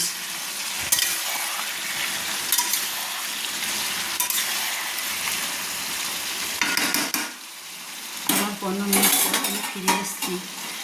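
Chicken kosha is stirred in a pot, with a continuous frying sizzle under scraping spoon strokes and metallic clanks of utensils against the pot, growing louder near the end, with no voices.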